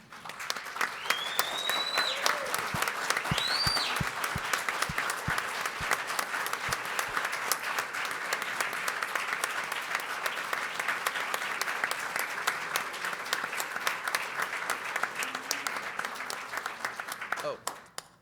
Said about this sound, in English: please stand and applaud as loud as you can